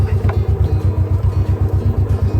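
A John Deere tractor engine chugs along in a low, rhythmic, pulsing throb, close and loud with no voices over it.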